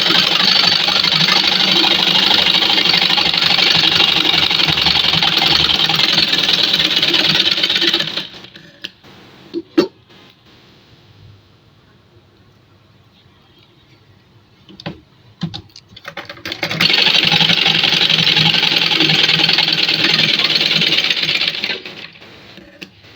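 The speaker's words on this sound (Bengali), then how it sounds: "উল্টা সাইড বাহিরে রেখে দুই সাইড সেলাই করব" A sewing machine stitches the two sides of a nima garment in two long, steady runs with a quiet pause between them. The machine whirs loudly and closely.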